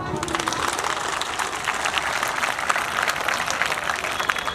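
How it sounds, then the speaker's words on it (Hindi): Audience clapping during a Hindi talk about a father's love, a sustained, even patter of many hands at moderate loudness, with no voices over it. "इस बात पे ताली आनी चाहिए"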